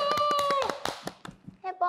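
Several quick claps in a loose burst with excited voices layered over them, celebrating a correct answer on a Busan Port Authority quiz show, ending with a child-like squeal.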